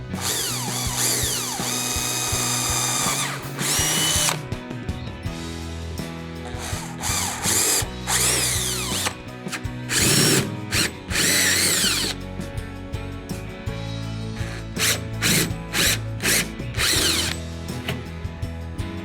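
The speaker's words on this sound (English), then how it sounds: "3/16 hole first, and then follow it up and enlarge the hole with a 3/8 bit" A power drill bores 3/16 and 3/8 inch holes through the hull of a Hobie 2020 Outback kayak in repeated loud, close bursts of whirring, with short pauses and ratcheting clicks between them.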